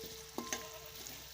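Onions for a chicken salan curry brown in a pan with a faint, steady sizzle, broken by a couple of soft clinks from stirring.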